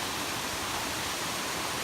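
Close, steady roar of a waterfall in the Black Forest, part of a series of cascades, an even wash of rushing water with no voices over it.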